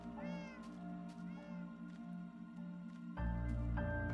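A cat meows repeatedly in a video game, rising and falling calls repeating over a steady tonal game soundtrack, with a louder musical swell near the end.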